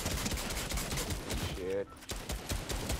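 Rapid bursts of gunfire crackle through a video game firefight, loud and dense across the clip, with a brief lull midway before shooting resumes.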